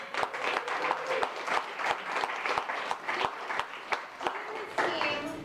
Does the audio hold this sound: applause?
yes